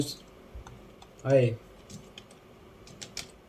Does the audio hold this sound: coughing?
no